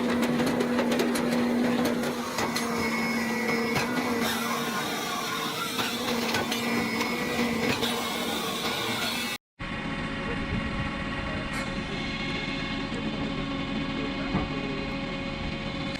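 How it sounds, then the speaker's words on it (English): A Fendu JBM 80 log splitter hums with a steady, loud mechanical drone at an open lumber yard, with a brief cut partway through before the continuous machine noise resumes. "the Fendu's JBM 80 log splitter hums with mechanical steadiness"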